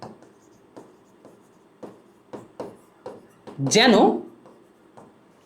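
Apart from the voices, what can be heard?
writing on a board during a geometry lesson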